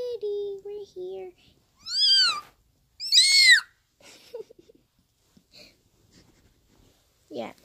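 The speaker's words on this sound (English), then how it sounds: "I have my little kitty right here" A pet cat meows twice in clear, rising-and-falling calls, close and fairly loud, after a short stretch of a person's voice, followed by softer small sounds and a last brief meow at the end.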